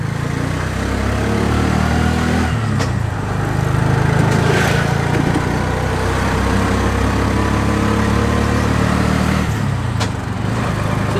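A tuk tuk's small engine runs steadily while the three-wheeler cruises along in fourth gear, a continuous close, loud droning hum with little change in pitch.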